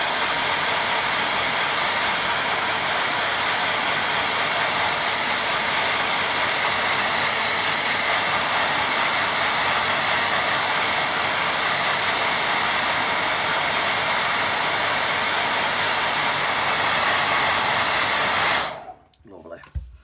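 A hair dryer blows steadily and loudly across a wet watercolour landscape painting of a distant lake, a constant roaring whoosh for about eighteen seconds before it switches off abruptly near the end.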